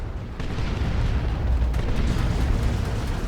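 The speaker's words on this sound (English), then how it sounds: "Stick bomb thrown in." Stick bomb grenade exploding in Dawn of War 2 battle, a dense low rumbling blast sustained for a few seconds with no talk.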